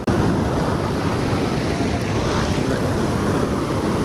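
Strong, forceful water rushes steadily at the Koka Koka picnic spot in Karbi Anglong, a loud, broadband roar close to the microphone with wind buffeting, continuous throughout and no talking.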